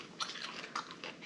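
A small yellow napa cabbage leaf wrap is chewed close up: a few crisp, wet crunches in a quick irregular rhythm, fairly quiet, with no talk.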